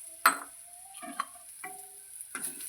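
Jowar and ragi flour upma being stirred and roasted in a pan: a few sharp scrapes and taps of a spatula at irregular intervals, fairly quiet, with soft sizzle between strokes and no speech.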